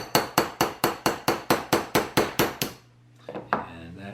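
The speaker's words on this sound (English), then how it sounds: "And we have a 5/64 roll pin punch." A hammer drives a 5/64 roll pin punch against a pistol's extractor pin in eleven evenly spaced sharp metallic strikes, close and loud, then pauses before a few lighter taps.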